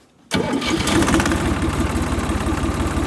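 A tractor engine turns over and catches at once after a brief quiet moment, then settles into a loud, steady, rhythmic chugging idle close by, with no voices over it.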